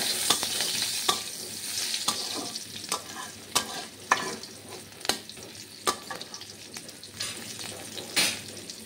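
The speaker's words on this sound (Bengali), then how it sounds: "কড়াইতে আমি পেঁয়াজ কুচি দিয়ে দিলাম।" Chopped onions fry in a wok (kadai) that just held fried fish head, giving a steady close sizzle broken by sharp scraping clicks of a spatula stirring roughly once a second.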